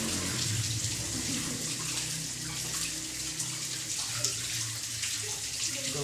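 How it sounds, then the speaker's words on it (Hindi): Tap water runs steadily while hands are washed beneath it as the first step of ablution before prayer, a close, continuous splashing stream with small shifts as the hands move, no voices over it. "सही अच्छी तरह हाथ धोएं अपने अपने सारे"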